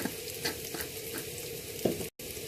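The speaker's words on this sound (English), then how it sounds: "I will be adding 1 level teaspoon of cumin and coriander powder" Cumin and coriander powder sizzling in a hot pan over low heat, a constant close frying hiss with a few faint stirring scrapes and a brief drop to silence near the end.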